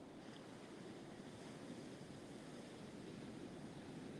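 Ocean surf breaking beside the Virginia Beach pier, a steady, unbroken wash of rushing water with some wind noise, heard alone without voices.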